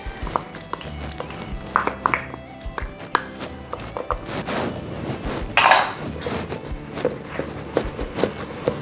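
Peanut butter pie filling with honey and coconut oil being mixed in a bowl, scattered clinks and scraping taps of a utensil against the dish, close and irregular, with short bursts of louder stirring.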